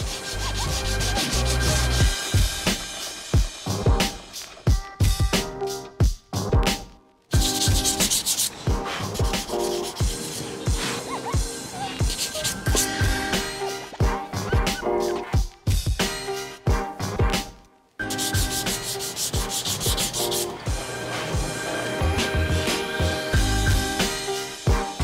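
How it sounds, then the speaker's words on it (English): Body filler on a 2021 Porsche Cayenne being hand-sanded with 150-grit paper: steady, close scraping strokes in repeated rhythmic bursts, with a few brief pauses, and no talking. "Everything is dry, so now we could start sanding the body filler."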